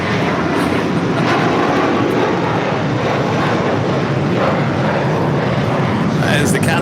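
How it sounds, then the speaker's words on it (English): A Cathay Pacific Cargo Boeing 747-8 lands at LAX, its loud broadband engine roar filling the whole stretch steadily and close, with a faint rise of whine toward the end. "That is the Cathay Pacific Cargo coming in from Dallas, Fort Worth, Texas, 747-8. Arriving on 25 left."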